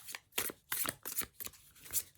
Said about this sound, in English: So I would shuffle my cards.